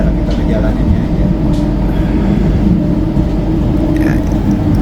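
Steady low rumble of a modern, clean tram moving through Brussels, constant and close, with rolling rail noise filling the whole stretch and no talk over it.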